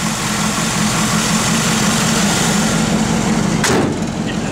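A 1973 Chevrolet Camaro LT engine running steadily at idle after the key is turned, a loud, even rumble with no pauses, broken by a brief sharp click near the end.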